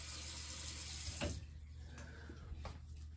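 Tap water runs steadily into a sink while a face is rinsed during a skincare routine, with a few brief splashes standing out over the continuous flow, close by and with no talking.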